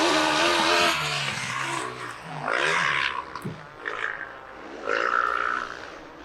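2-stroke and 4-stroke snow bikes race side by side in a national snowbike series round, engines screaming and shifting pitch as they pass close, with rising and falling revs.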